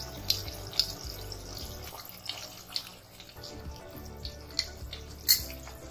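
Corn flour slurry is poured into a pan of paneer chilli gravy, making a soft, watery trickle and splash with a few light clinks of utensils, close and fairly quiet.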